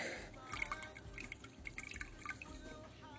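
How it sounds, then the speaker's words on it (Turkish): Fermented dandelion syrup drips and trickles steadily through a strainer, a soft continuous liquid patter close by with faint background noise. "Şimdi bunu süzeceğiz güzelce."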